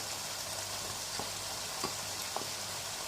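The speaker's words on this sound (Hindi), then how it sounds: "और इसको हम टमाटोज़ के साथ जो है 3 to 4 मिनट्स के लिए भूनेंगे।" Minced keema fries in a pan with green chillies and tomatoes, a filling for stuffed bitter gourd. It makes a dense, even crackling sizzle close by, with a few light scrapes of stirring and no speech.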